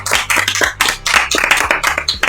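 Applause from a live podcast audience for Chef Maeva's pancakes: a burst of clapping, fairly loud and close, with a low musical hum underneath.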